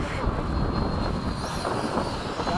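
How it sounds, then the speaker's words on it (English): A V8-powered RC model plane flies overhead, its steady engine roar mixed with wind rush and a faint rising whine. "I hear a V8 powered plane"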